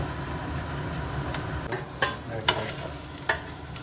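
A pan sizzles steadily while food is stirred, with a few sharp scrapes and clinks of a utensil against the metal.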